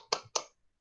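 A few rhythmic hand claps in a group 'tepuk semangat' icebreaker at a school learning-committee session: two sharp, close claps in quick succession, then a faint tap.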